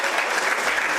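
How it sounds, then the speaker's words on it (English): A crowd gives a standing ovation at a handball championship in the Multnomah Athletic Club, with dense, steady applause filling the whole moment. "And a standing ovation from the crowd at the Multnomah Athletic Club."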